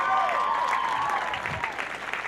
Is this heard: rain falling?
no